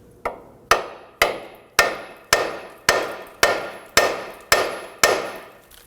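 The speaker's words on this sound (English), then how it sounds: "I'm going to strike the ball joint and try and pop it up and in" A hammer strikes the lower ball joint on the front suspension of a 2008–2011 Ford Focus, ten sharp metallic blows in a steady rhythm about half a second apart, each ringing briefly, close and loud with no talk.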